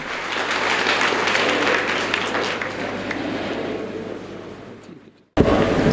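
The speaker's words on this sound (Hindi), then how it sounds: "गुजारिश है कि पुरजोश तालियों से उनका इस्तकबाल किया जाए।" An audience at a Nanded gathering applauds to welcome Ashok Rao Chavan, a dense, steady wash of clapping that fades slightly before cutting off abruptly near the end.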